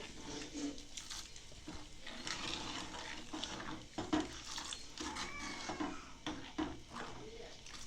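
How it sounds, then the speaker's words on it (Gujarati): Ingredients for Kathiyawadi Gujarati kadhi, with salt, cumin and coriander, being stirred together in a pot, giving a steady run of scraping, swishing and light clinks of a utensil against the metal, moderately close and without talk. "આ બધી વસ્તુને બરાબર મિક્સ કરી લેવાની છે"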